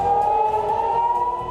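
An air raid siren wails in northern Israel, a loud, sustained single tone holding steady throughout.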